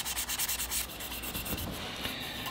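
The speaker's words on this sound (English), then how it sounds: "So I just run my 1000 grit sandpaper over top of that," Fine 1000 grit sandpaper rubs over calcium buildup on a clay bonsai pot, making close, quiet scratchy strokes in a quick back-and-forth rhythm that soften toward the end.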